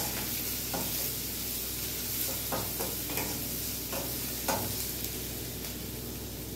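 Onions sizzle steadily in hot oil in a pan, with curry leaves also in the pan. A continuous close frying hiss carries occasional stirring clicks and scrapes throughout, and no voices.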